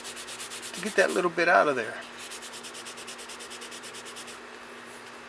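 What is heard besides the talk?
rubbing newsprint over a painting's surface to smooth it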